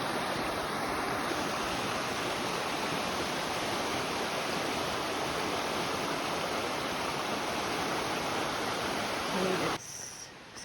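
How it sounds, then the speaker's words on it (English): Rattling Creek flowing beside a trail along East Branch Road, a steady broadband rushing of water running continuously and fairly close before cutting off abruptly near the end. "You can still hear the creek to my right, and this trail follows right alongside of it"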